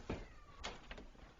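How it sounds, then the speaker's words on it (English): Pet cat Custard lets out a faint, plaintive meow indoors, a few soft short cries in quick succession at low volume. "Who's meowing so sadly?"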